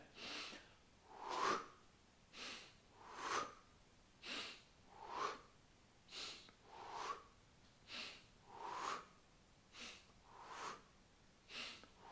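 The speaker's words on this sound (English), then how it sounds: "Breathing in, we'll go a little slow" Slow breaths drawn in and let out during a whole-body breathing exercise, about ten soft, airy breaths in a steady, even rhythm, quiet and close with no talking.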